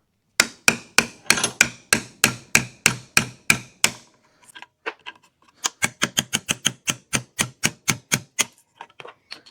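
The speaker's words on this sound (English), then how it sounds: "grab a hammer and a chisel and just pound away at it" Sharp metallic hammer blows strike a chisel in a steady rapid series, pausing briefly before another run of evenly spaced strikes.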